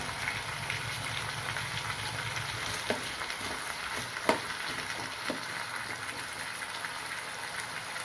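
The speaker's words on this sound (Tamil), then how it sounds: "ஃப்ளேம் ஃபுல்லாக வச்சு தான் வதங்கணும் நிறைய காய் இருக்கிறதால ஃபுல்லாகவே வச்சுக்கோங்க அப்போ தான் சீக்கிரம் காய் வதங்கும்" Vegetables and green chillies sautéing in a pan over full flame, with a steady close sizzle, occasional stirring clatter and a few sharp utensil knocks, no talking.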